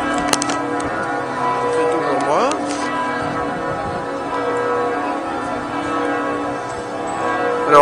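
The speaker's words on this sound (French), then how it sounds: "Alors ici on peut entendre les cloches." Cathedral church bells ring steadily through a resonant interior during an Ascension Mass, their sustained tones blending with a busy wash of crowd noise and murmured voices.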